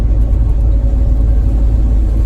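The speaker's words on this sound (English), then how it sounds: "I hear more wheel tire noise on the road than I do engine noise" A bus rolls along the road with a steady, loud low rumble, tire and road noise louder than the engine, continuous with no pauses or voices.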